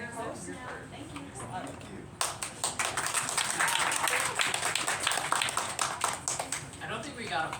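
An audience at a literary reading series breaks into applause after a quiet spoken stretch, the clapping starting abruptly and continuing dense and lively to the end.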